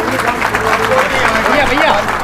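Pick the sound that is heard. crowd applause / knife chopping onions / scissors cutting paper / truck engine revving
crowd applause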